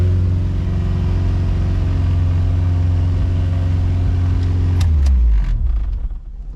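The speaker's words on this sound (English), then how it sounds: "when I turn it on, it's gonna rev really high and it's gonna feel like the engine is gonna blow" A Hondata-tuned Honda B20 engine idles high at around 3,000 RPM, a loud steady drone close by for several seconds, then it is switched off and winds down into quiet.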